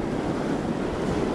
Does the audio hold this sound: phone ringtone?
no